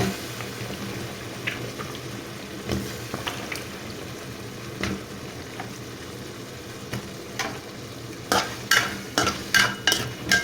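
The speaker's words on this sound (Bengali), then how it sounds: "আমি এখন দিয়ে দিচ্ছি আলু দিয়ে 2-3 মিনিট আবার কষিয়ে নেব" Fish and potatoes fry in a little water in a pan, a steady sizzle with a spoon scraping and stirring, and a burst of rhythmic scrapes near the end, with no voices.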